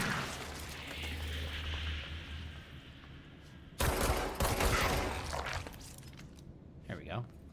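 Rapid bursts of gunfire from a video game, a dense crackling volley that erupts suddenly and rattles on for a few seconds over a low background hum, with a few scattered shots trailing after.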